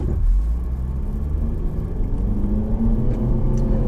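A 2013 Nissan Juke Nismo in all-wheel drive launches from about 600 RPM, its engine a loud, close rumble that climbs steadily in pitch as it accelerates.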